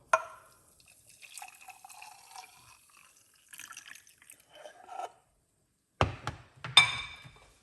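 Cucumber, lime and ginger detox drink is poured into a cup, heard as brief soft trickles and splashes between quiet moments, ending in a pair of sharper liquid bursts close by.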